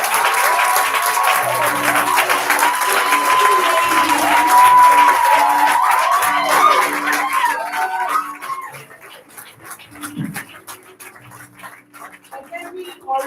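A crowd at the African Science Academy graduation ceremony for the class of 2023 applauds loudly over tonal voices or music, then the clapping thins out to scattered claps.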